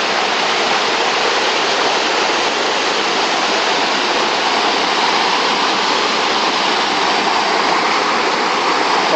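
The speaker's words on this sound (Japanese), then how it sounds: "川が流れてる。" A river flows steadily beside a roadside station park in Nagano, its broadband rush of water loud, constant and close throughout, with no voices over it.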